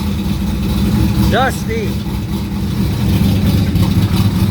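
A 1969 Chevrolet Corvette C3 engine runs steadily while warming up, a close, continuous low rumble under a brief spoken word.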